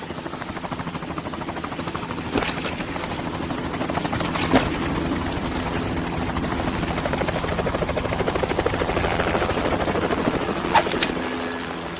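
A helicopter in Metal Gear Solid 2: Sons of Liberty drones with a steady, loud rotor sound throughout, with scattered clanks and bursts layered over it.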